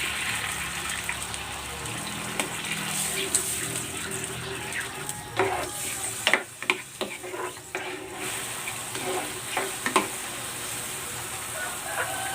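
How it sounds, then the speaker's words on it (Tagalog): Water poured into a pan of eggplant cooking in soy sauce, calamansi, oyster sauce and pepper: a few soft splashes and clinks around the middle, over a steady background hiss. "Maglalagay din ako ng tubig."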